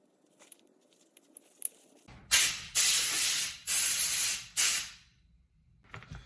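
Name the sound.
blowing out hair clipper parts with compressed air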